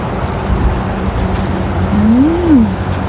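Rain falls steadily on a rainy morning among potted succulents, a dense, even patter that continues throughout, with a faint rising and falling tonal sweep briefly passing over it near the end.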